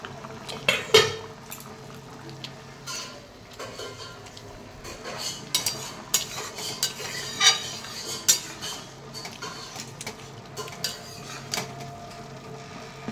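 Dal lentils simmering in a pot while being stirred, soft bubbling under scattered clinks and scrapes of a metal spoon against the vessel, close but fairly quiet, with no one speaking.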